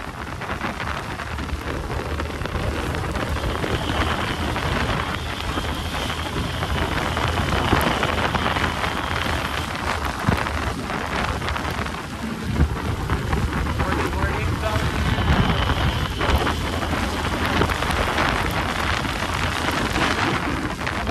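Heavy rain roars continuously with gusting wind buffeting the microphone during a motorbike ride, a dense unbroken wash of noise; a voice is faintly audible beneath it.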